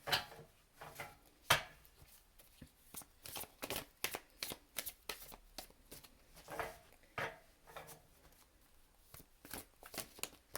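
Tarot cards are shuffled by hand at close range, a series of quick riffling bursts and soft slaps in an uneven rhythm, with near-silent pauses between them and no voices.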